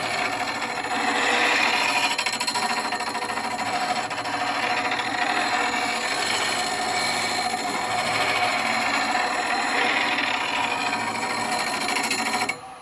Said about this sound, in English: We're on a nice slow grind. We're on 800 RPM.